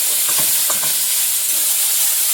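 Potatoes and okra frying in a pan, a steady close sizzle and hiss with a few soft stirring scrapes near the start.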